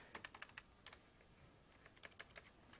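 Computer keyboard connected over USB to a GBS-C VGA/RGB scaler setup, typed in short bursts of quick, crisp key clicks with pauses between them, close up and fairly quiet, no voices.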